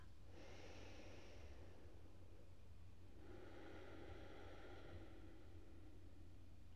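Slow breathing exercise: a soft, airy inhale followed after a pause by a longer, gentle exhale, close and quiet over a low steady background hum, with no talking.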